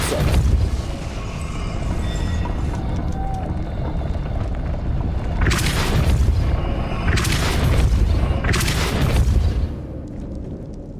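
Depulso force spell cast in Hogwarts Legacy, heard as a run of loud, deep booming blasts, with three strong bursts in quick succession near the end over continuous rumbling game sound.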